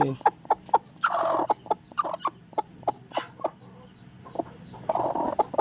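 A brooding hen sits on her eggs and clucks in short, evenly spaced bursts, close and clear, with a few longer harsher growling calls between them.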